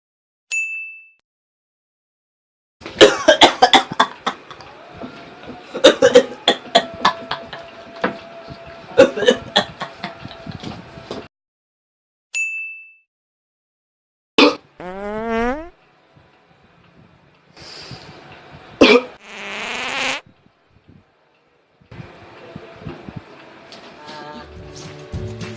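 Assorted coughs, some exaggerated and comedic, come in rapid bursts and separate hacks, close and loud, with short pauses and a few chuckles and vocal sounds mixed between them.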